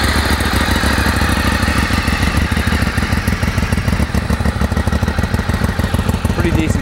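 A used Ducati 848 EVO sport motorcycle with low mileage idles steadily close by, its engine giving a loud, even, rapid throb with a faint mechanical clatter from start to finish.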